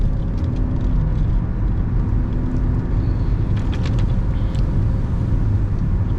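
A car builds speed pulling onto a main road, a loud continuous low engine rumble and road noise holding steady inside the cabin, with no talk.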